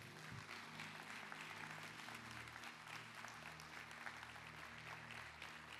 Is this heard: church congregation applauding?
yes